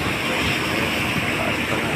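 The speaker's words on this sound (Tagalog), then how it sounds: "Malakas pa na yung tubig" Strong rushing water, a loud, steady, dense roar filling the whole moment without break, close and continuous.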